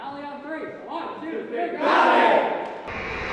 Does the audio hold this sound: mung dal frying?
no